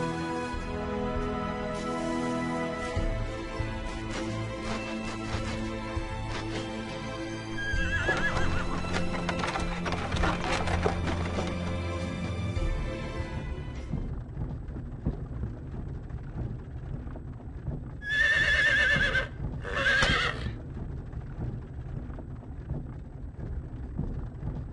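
A horse-drawn wagon pulls away in the video game Star Ocean: Till the End of Time, with steady clip-clopping hooves and two loud whinnies near the end.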